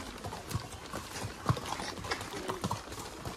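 Horse hooves clip-clop at a steady riding pace on a road toward a market at the Matheran hill station, with faint background voices and ambient noise.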